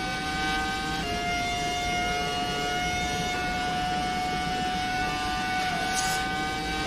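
A Ferrari F2004 Formula 1 car in a racing video game, a steady high-pitched V10 engine whine held at near-constant revs with brief pitch shifts from gear changes, loud and continuous with no talking.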